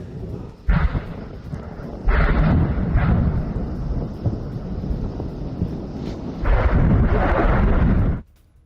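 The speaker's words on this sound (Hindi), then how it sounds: "देखिए किस तरह से गोलान हाइट्स में इजराइल ने विस्फोट किया है" Serial mine explosions set off by Israel in the Golan Heights: several heavy, loud blasts with rumbling low-end bursts near 0.7, 2.1, 3 and 6.5 seconds, each sustaining a roar before cutting off abruptly.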